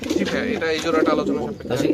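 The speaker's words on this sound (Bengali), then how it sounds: "এটা হচ্ছে ইম্পোর্ট ব্লাড লাইনের একদম সরাসরি ইম্পোর্ট ব্লাড লাইনের টপ কোয়ালিটির লাহোরি কবুতর" Top-quality imported-bloodline Lahori pigeons cooing up close, a steady run of low throaty coos that fill the whole moment, with someone talking over them.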